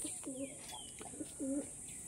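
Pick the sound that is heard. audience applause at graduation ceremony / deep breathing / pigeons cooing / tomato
pigeons cooing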